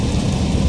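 A brief burst of heavy storm rain noise with a deep rumble underneath, loud and close, without any voices.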